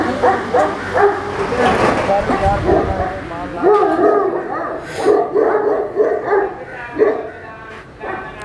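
Bully-type dogs in an outdoor dog yard at their evening routine, barking and whimpering repeatedly in short overlapping bursts at close range, with someone talking over them.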